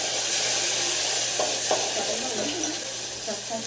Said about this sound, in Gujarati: તો ગઈ કિંજલ શાક વઘારી દઈશ